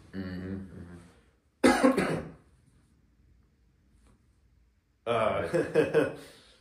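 A person coughs in short bursts, a pause of quiet between, then another round of coughing, close and fairly loud, with voice at the very start.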